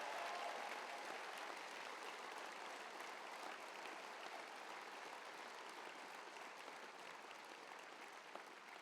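Sustained applause from a large audience fills a political rally hall at the Futuroscope in Poitiers during a François Fillon speech, steady and dense for the whole stretch with no voices over it.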